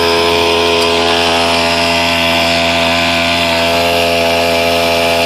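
A gold dredge's suction motor drones steadily with a rough, buzzing engine tone, constant and close for the whole stretch, outdoors in Utah.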